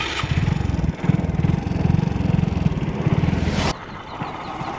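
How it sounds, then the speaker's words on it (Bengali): A motorcycle engine runs and revs close by with a steady low throbbing beat, on a road trip heading toward a jungle temple, then cuts off abruptly near the end, leaving quieter background road noise. "গাড়ি স্টার্ট দিয়ে বেরিয়ে পড়লাম জঙ্গলি বাবা যাওয়ার পথে"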